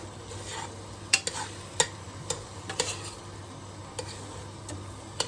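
A metal utensil scrapes and taps around a non-stick pan as food sizzles softly, with a handful of distinct clicks over a low steady hum.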